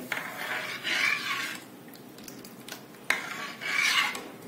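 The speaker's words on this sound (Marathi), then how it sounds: "एकदा हे ताक घातल्यानंतर मिश्रण सलग हलवायचं, नाहीतर कढी फुटायची शक्यता असते" A spoon scrapes and stirs a buttermilk kadhi mixture in a pot over low heat, making repeated rasping strokes that swell and fade in slow waves, close by with no talking.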